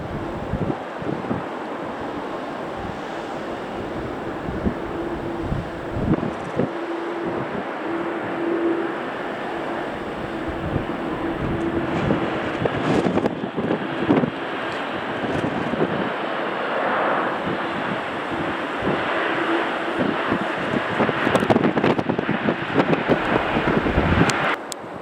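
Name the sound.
strong wind at Manchester Airport during storm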